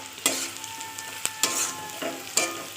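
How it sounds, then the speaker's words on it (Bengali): Cumin, coriander, chili and turmeric powders sizzle in fried onions for a mutton curry, with a steady frying hiss and several sharp scraping strokes of a spoon stirring the pan. "পেঁয়াজটা ভাজা হয়ে গেছে, এবার আমি একে একে জিরের গুঁড়ো, ধনের গুঁড়ো, লঙ্কার গুঁড়ো, হলুদের গুঁড়ো দিয়ে দিলাম"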